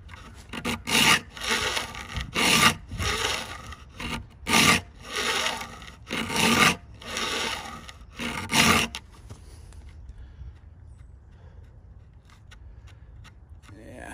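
Steel file rasping across the teeth of a vintage handsaw during sharpening, a series of close, loud, rhythmic strokes that stop partway, leaving quiet room tone.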